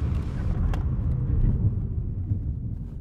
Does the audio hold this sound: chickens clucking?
no